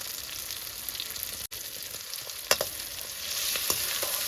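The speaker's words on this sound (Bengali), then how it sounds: "লঙ্কাটা আমি ভালো করে ভেজে নেব।" Green chillies fry in hot mustard oil with salt, giving a steady close sizzle broken by scraping stirs and a few sharper crackles and spatters.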